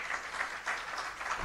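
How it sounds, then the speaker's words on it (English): An audience at a World Investment Week panel discussion gives the panelists a round of steady applause, dense continuous clapping filling the room. "Let's clap for them, ladies and gentlemen."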